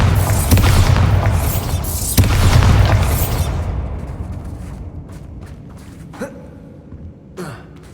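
Bombarda spell explosions from Harry Potter magic, a pair of deep booming blasts rolling into a long fading rumble, followed by a few fainter whooshing pops.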